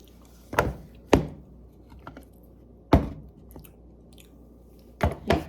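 A few sharp, close crunchy bites and chews of caramel peanut protein ice cream, spaced irregularly with quiet gaps between them, and no talking.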